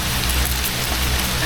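Heavy rain pours steadily in a dense, continuous hiss, close and loud, with no pauses.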